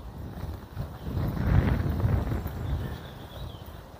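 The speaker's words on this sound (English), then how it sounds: "It's that windy," Strong wind gusts across an open cemetery, buffeting the microphone with low, rumbling roar that swells in the middle and eases toward the end, with no talking.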